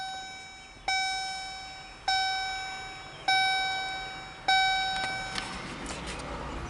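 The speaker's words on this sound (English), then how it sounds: "Now I'm going to turn the ignition on." Dashboard chime in a service van after the ignition is switched on: four evenly spaced electronic dings about a second apart, each a clear tone that rings and decays, followed by faint background noise.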